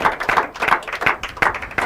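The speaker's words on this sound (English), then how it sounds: "With a warm round of applause." An audience at an inter-collegiate quiz and debate competition claps in a brief, uneven patter of hands, fairly close and moderately loud.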